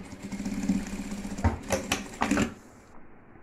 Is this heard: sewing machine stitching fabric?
yes